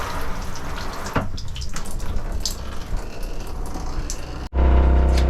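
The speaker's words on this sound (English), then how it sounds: "Got pink stuff flowing in the shower." Pink antifreeze runs from the shower faucet of a Sonic travel trailer during winterizing, giving a steady rushing splash of water that ends abruptly in a brief gap, followed by a louder, lower gush.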